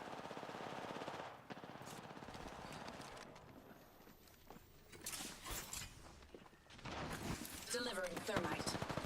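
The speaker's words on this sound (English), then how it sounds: "some of these guns with the very high firing rates are quite fun" Rapid-fire guns with very high firing rates rattle in Apex Legends, with fast dense bursts of close shots, brief pauses between them and a jumble of other game effects.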